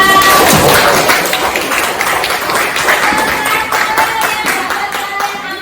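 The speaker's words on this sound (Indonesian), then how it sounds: "tepuk tangan buat Gaisa" A group claps together in a quick, lively burst of applause that gradually thins out.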